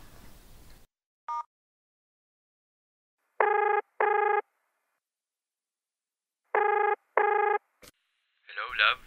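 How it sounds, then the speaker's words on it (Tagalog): An outgoing phone call rings back in the earpiece with two double-ring bursts separated by long silences, clear and close, with a brief voice at the start and end. "Ay, try ko nga tawagan ulit."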